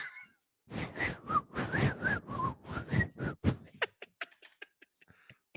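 A man whistles the Pee Wee Herman theme song in a series of short, bouncy, breathy notes, close and clear, followed by faint clicks and scattered small noises as the tune stops.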